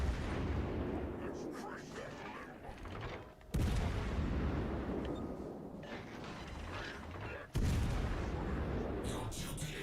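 Battleship armor-piercing shell salvos firing in the naval video game World of Warships: Legends, two loud booming blasts several seconds apart over continuous rumbling engine and mechanical noise, with a voice talking.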